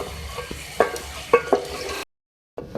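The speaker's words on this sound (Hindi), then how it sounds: "थोड़ा कुक करेंगे इसके साथ भी और इसको भून लेंगे।" Chicken with half a cup of yogurt is fried and stirred in a pan, with a soft sizzle under several sharp scraping strokes of a spoon against the metal, then a brief moment of silence before the sizzling resumes.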